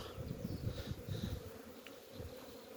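Honeybees buzzing around hives at an apiary in late February, a steady low drone with scattered individual wingbeats passing close, continuous and fairly quiet, no voices.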